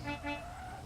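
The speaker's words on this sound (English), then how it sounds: "Demon, honk when ready" A Nissan S15 at a racing event sounds two short horn toots before its qualifying run, heard faintly over a low engine rumble.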